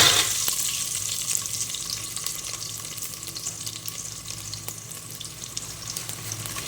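Garlic frying in oil for a Tamil Nadu-style fish curry gives a loud sizzle right after it hits the pan, then settles into a steady close crackle that slowly fades a little.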